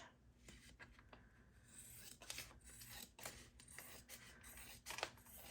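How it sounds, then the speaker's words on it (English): Scissors cut a bag off while a junk journal is being made, giving faint, close, scratchy snips and rasps that repeat irregularly with brief pauses. "I'm going to use my good scissors."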